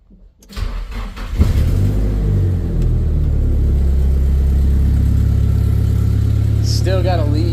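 A Nissan Silvia engine with a new exhaust, which has a leak, cranks and fires up, then settles into a loud, deep, steady rumble that fills the rest of the clip, with a brief voice near the end.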